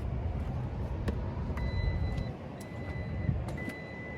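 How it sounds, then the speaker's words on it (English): Power liftgate on a 2025 Wagoneer S closing, a faint motor hum under low road-like rumble, with soft repeated chime tones and a few light clicks. "That's where you can hit that button and close the lift gate."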